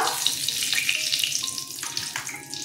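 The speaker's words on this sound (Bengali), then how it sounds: "এবার ফোড়নে শুকনো লঙ্কা দিলাম, তেজপাতা" Dry red chillies and bay leaves hitting hot tempering oil for a mango-and-mustard jackfruit dish, giving a steady hissing sizzle with light crackles and spits throughout.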